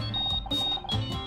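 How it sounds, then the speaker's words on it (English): A phone rings in the video game Murder by Numbers, a close electronic ringtone with bright repeating beeps in quick, bouncy bursts. "I think that's my phone"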